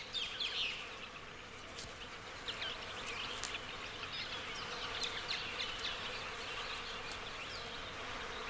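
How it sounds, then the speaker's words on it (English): Insects drone around an eagle chick at a carrion-strewn nest in the Maya forests, a faint, continuous buzzing with individual flies passing close now and then, and no voices. "The young bird is plagued by insects."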